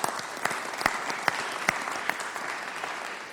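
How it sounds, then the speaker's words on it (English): Audience applause after a presentation, continuous clapping with a few sharper individual claps standing out, steady and fairly close for about three seconds. "Let's give her another round of applause."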